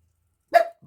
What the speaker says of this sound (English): That's Daisy going to start barking because I can hear someone outside.